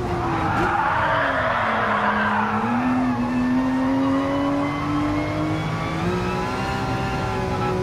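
A race car in Gran Turismo Sport accelerates through the gears, its engine note climbing in long sweeps with brief drops at each shift, loud and continuous with no talk.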